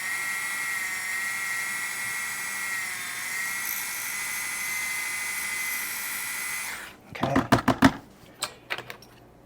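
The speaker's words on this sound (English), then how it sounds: "Drill." A small drill bores into a Mini4WD rear stay in several short, sharp bursts after a steady electronic hum cuts off.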